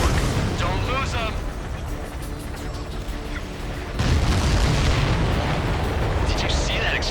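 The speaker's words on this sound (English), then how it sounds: "Did you see that explosion? Looks like that's one of them down." Enemy supply ship blowing up in the flight combat game Ace Combat 7, a heavy booming blast kicking in midway over constant jet engine roar, with radio voices earlier.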